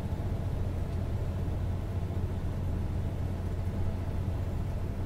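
A 2007 Freightliner M2 Sportchassis truck drives along with a steady low engine rumble and road noise, constant and close throughout, with no talk.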